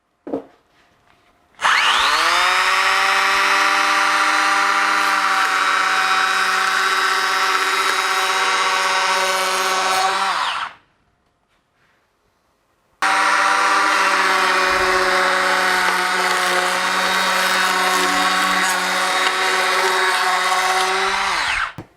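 A Bosch GHO 12V cordless planer chamfers a wood edge with two long, loud whining passes, each lasting several seconds and ending as the motor winds down, a short quiet gap between them.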